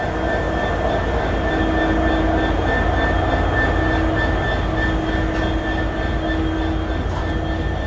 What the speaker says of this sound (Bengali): এখন এই ট্রেন থেকে এই লোকোকে বিচ্ছিন্ন করা হবে